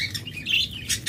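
Caged lovebirds and budgerigars chirp in quick, bright bursts, several birds overlapping in a busy, fairly close chatter with no talking.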